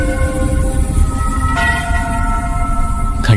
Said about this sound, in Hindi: घंटी अपने आप बज उठती है।